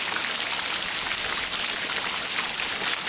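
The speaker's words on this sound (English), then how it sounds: "Suddenly started coming down like you would not believe. This is our first real African rain. And it's coming down in buckets full." A heavy African rain downpour pours down during a safari game drive at Shumbalala, a dense, even hiss of rain falling steadily with no pauses and no voices.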